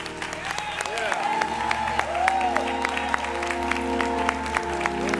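Mourners at a bishop's homegoing service applaud a son, a sustained clapping crowd under sustained music and organ-like tones, with sharp individual claps standing out.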